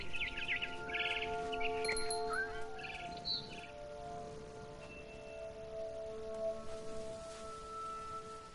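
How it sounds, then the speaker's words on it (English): Barn swallow chirps in a PS4 video game, brief high tweets scattered early over a steady ambient bed of tonal game sound and soft rain-like noise, fairly faint and without speech. "Then I heard chirping outside my window. It was a barn swallow going back to her nest."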